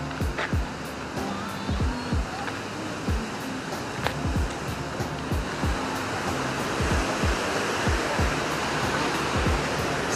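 A steady, loud roar of rushing water pours on without a break, with faint repeating chirps scattered through it.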